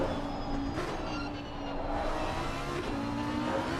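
A Lamborghini GT3 race car engine in Assetto Corsa Competizione on the downhill section at Mount Panorama, a steady mechanical roar with whining tones that dip briefly, as if shifting down, then climb again.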